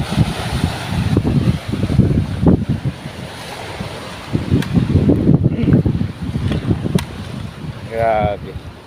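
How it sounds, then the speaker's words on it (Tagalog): Strong wind buffets the microphone beside rough, large sea waves at a boat landing, a loud rumbling roar that surges and eases; someone speaks over it and a brief whistle-like tone appears near the end. "Lakas na naman ang hangin."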